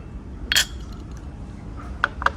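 Glasses clink together in a toast over vodka soda, one bright clink early, then two short sharp clinks near the end, close and alone in a quiet room.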